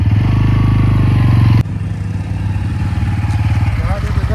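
A motorcycle engine idles loudly and close with a steady low throb, then drops briefly and settles into a slightly quieter, uneven running rumble.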